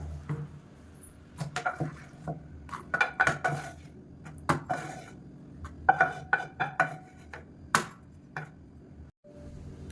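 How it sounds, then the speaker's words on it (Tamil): Roasted peanuts, sautéed tomatoes and dried red chillies are tipped into a mixer jar, giving a series of close clinks, taps and knocks of utensils against the jar in an otherwise quiet kitchen. "இப்போ நம்ம வதக்கி வச்சுருக்கிற இந்த தக்காளி வரமிளகாய் இது எல்லாத்தையுமே சேர்த்துக்கலாம்."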